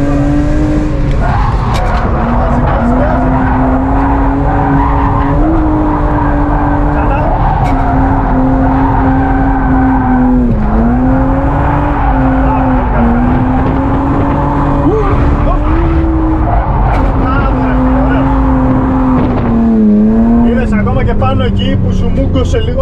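A drift car's engine drones and rises in repeated surges across a long run, with squealing, skidding tires throughout and people talking over it.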